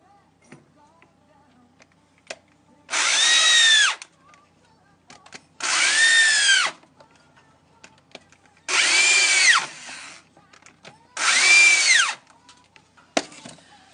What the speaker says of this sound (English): I'm just going to go ahead and screw this onto a faceplate